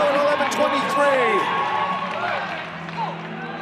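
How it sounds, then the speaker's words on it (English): A loud indoor track meet crowd roars and cheers continuously during a distance race, with a commentator talking over the noise throughout. "the crowd much louder than they are in numbers"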